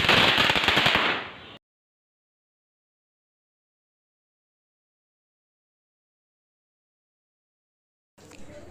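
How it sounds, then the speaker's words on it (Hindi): Diwali firecrackers crackle in a dense, loud burst of rapid pops for about a second and a half, then silence falls until a fresh crackle starts near the end. "तो फिर हमने चलाए खूब सारे पटाखे।"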